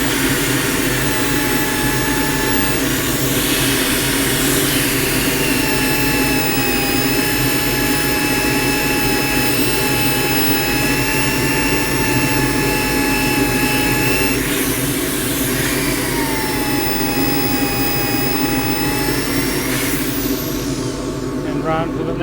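A wooden bowl spinning on a lathe is sanded with a coarser grit, giving a steady, loud, close whirring hiss with a faint whine that dips briefly midway and runs unbroken to the end.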